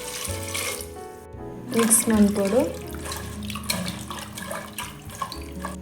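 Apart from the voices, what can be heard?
water being poured into sambar pot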